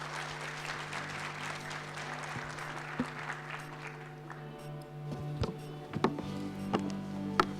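Scattered applause from an audience at a national ICT summit follows a presentation, with sparse claps fading into a low hum before a few louder taps near the end.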